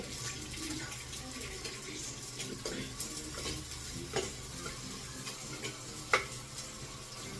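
Soft sizzling and crackling of spices tempering in hot oil in a clay pot, steady and close, with occasional stirring clinks and a sharp tap near the end.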